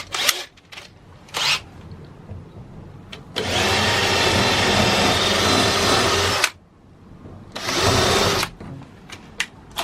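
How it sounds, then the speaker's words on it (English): Drill with a small countersink bit countersinking wood battens fixed over steel in a Fiat Ducato van roof, three bursts of whirring, a long middle one about three seconds, close and loud. "now back to the wee countersink bit. The bit set, it'll not hit the steel, but it'll countersink this"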